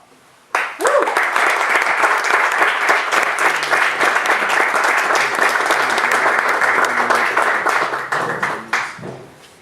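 An audience at a literary talk breaks into sustained applause welcoming Jonathan Lethem, a full, even clapping that starts abruptly, holds steady for about eight seconds and then trails off into scattered claps.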